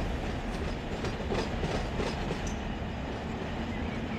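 A freight train rolls out of Rice Yard in the Run 8 train simulator game, a steady, loud rumble of wheels and cars with faint clickety-clack throughout.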